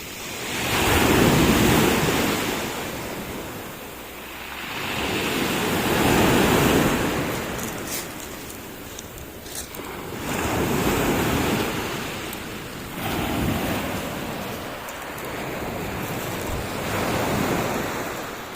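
Sea waves surge and break close by in slow swells, a rushing roar rising and falling every few seconds, with wind buffeting the microphone.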